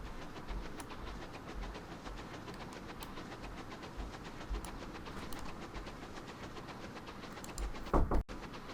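A steam locomotive called the Thunderbolt runs on rails in the railway-building game Transport Fever 2, with a steady rolling clatter throughout, fairly close, and a brief louder burst near the end.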